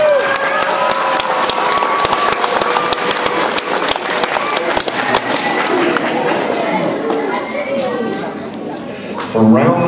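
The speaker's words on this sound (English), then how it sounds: "This time, a big round of applause for Olivia." Audience at a school spelling bee breaks into loud, dense applause that carries for several seconds before thinning out, with voices heard near the end.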